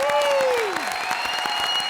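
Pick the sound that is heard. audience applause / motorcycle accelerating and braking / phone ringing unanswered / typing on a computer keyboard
audience applause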